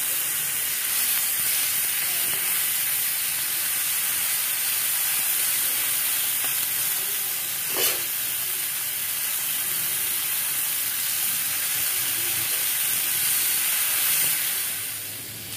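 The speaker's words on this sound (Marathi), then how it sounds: "आता आपल्याला ह्याला बारीक गॅसमध्ये ठेवायचं, कारण की आता हे आपलं मस्त तेलामध्ये छान अशी क्रिस्पी होऊन जाईल" Green chillies fry in oil in a pan over a low gas flame, giving a steady close hiss and sizzle that holds evenly throughout with only a small pop partway through.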